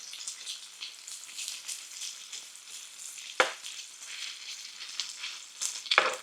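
Bacon sizzles in its grease on a grill while breakfast burritos cook: a steady, close, crackling fry with two sharp clicks of a utensil partway through.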